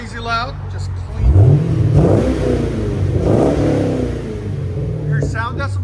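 Deep V8 rumble from a 2014 Chevy Camaro 2SS 6.2L with Magnaflow exhaust swells through a couple of throttle blips, close and steady, while people talk over the engine.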